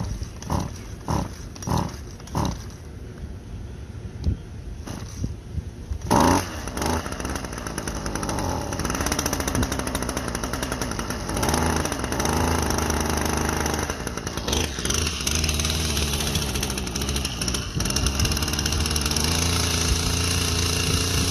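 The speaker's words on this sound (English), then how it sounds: "So I can go around with a brush cutter today and do that." Petrol brush cutter cutting lawn grass, its two-stroke engine starting with short bursts, then revving and droning steadily near the microphone, rising and falling as the blade works through the grass.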